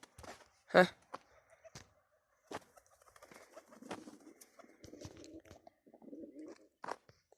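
Pigeons coo softly at close range in a loft after being bathed, with low murmuring calls and a few sharp sounds, like wing flaps or handling, scattered through a quiet background.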